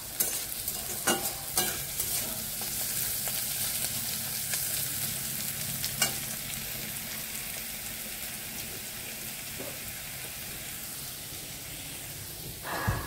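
Food sizzles steadily as it fries in a wok (kadai) and is stirred, with the spatula scraping and clattering against the pan several times over a constant hiss; no one speaks.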